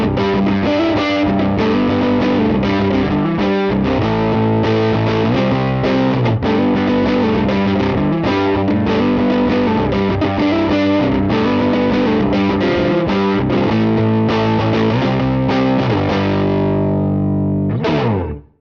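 An electric guitar on the neck pickup plays through a Fractal amp modeler with a distorted, effects-laden tone. A continuous run of melodic phrases lasts for about eighteen seconds, then rings out and fades at the end.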